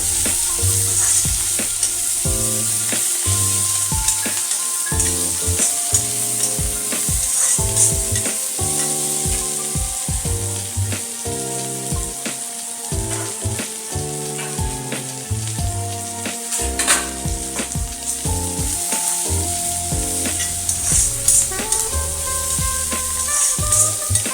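Onions fry and get stirred in a kadai for pepper gravy, a continuous loud sizzle broken by frequent scraping strokes of a spoon throughout, close up with no talking.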